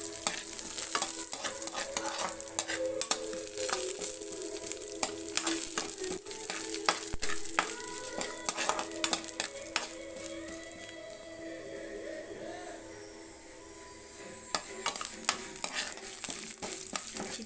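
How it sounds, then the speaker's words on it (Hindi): Suji and potato mixture being roasted in a pan over a gas flame gives a soft steady sizzle with frequent scraping and clinking of a spoon against the pan, close and moderately quiet, with no talking. "इसको हम भून लेते हैं"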